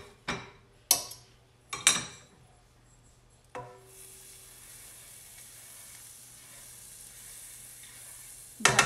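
Batter for fluffy Japanese pancakes hitting a buttered pan, a few sharp clinks and knocks, then a soft steady sizzle that holds quietly until more clatter at the end.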